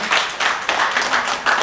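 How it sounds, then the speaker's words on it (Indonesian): An audience of women at an entrepreneurship outreach session in Indonesia claps together in a short, dense burst of applause with irregular peaks, loud and close. "Tepuk tangan buat ibu-ibu semua nih"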